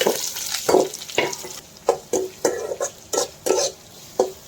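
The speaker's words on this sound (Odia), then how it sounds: "ତେଲ ଗରମ ବି ହେଲାଣି, ଗୋଟେ ଶୁଖିଲା ଲଙ୍କା ଦେଇଦେବି, ଫୁଟଣ, ପିଆଜ କାଟି ରଖିଛି ତାକୁ ଦେଇଦେବି।" Dry chili and onion dropped into hot oil in a kadai, giving a steady frying sizzle broken by a regular series of sharp scraping stirs, close and fairly loud, with no talking.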